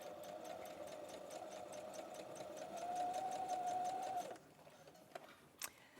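Sewing machine stitching a zipper seam into fabric, a steady fast rhythmic whirr that runs continuously and grows slightly louder before stopping abruptly, followed by a few faint handling clicks.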